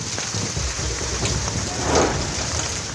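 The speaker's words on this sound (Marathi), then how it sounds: "रत्नागिरीत गारांसह जोरदार पाऊस झाला" Heavy unseasonal rain with hail pours down in Ratnagiri, a dense, loud, steady wash of rain beating on surfaces with no voices over it.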